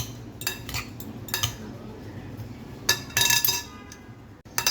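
Metal utensils clink and scrape against a bowl while a salad dressed with vinegar is tossed and mixed, with irregular bursts of clatter between quieter pauses.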